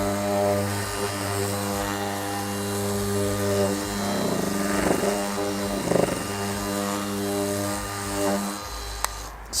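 Milwaukee M12 Fuel random orbital sander running at its second speed setting, a steady mechanical whir with a low hum and no talk over it.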